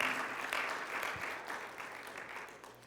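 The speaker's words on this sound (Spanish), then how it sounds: "¿No le da un aplauso al Señor?" A church congregation applauds in a steady, dense wash of clapping from many hands that holds at an even level throughout, with no voices standing out.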